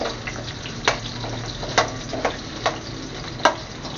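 Potato pieces frying in oil for a pork rib kaldereta give a steady, moderate sizzle, broken by a few scattered sharp clinks of stirring utensils against the pan.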